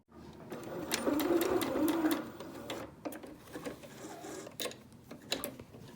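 A sewing machine stitching a quarter-inch seam on a cushion, with a steady whirring run up front that gives way to intermittent ticks and clicks as the fabric is handled.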